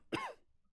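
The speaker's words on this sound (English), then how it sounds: "the witch kept coughing his insides out" A single short, sharp cough from a witch character in the video game Bewitching Sinners, quick and fairly quiet, fading into near silence.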